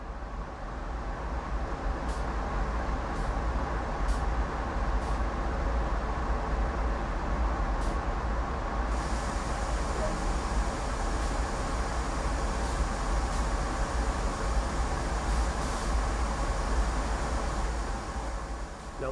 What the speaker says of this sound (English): and applying the brakes on the train